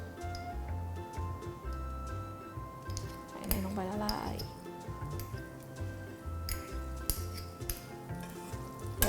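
Bacon-wrapped cheese sausages fry in a pan with a little oil and butter, giving a continuous close sizzle and crackle with occasional utensil taps, and someone talks over it.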